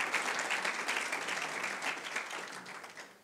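An audience at a film talk event applauds warmly: dense, steady clapping that holds throughout and eases slightly at the end.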